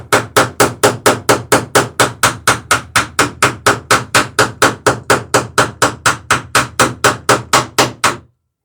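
Steady, loud hammering on rivets along the laps of wooden boat planking, about thirty evenly spaced sharp blows in a quick unbroken rhythm that stops abruptly.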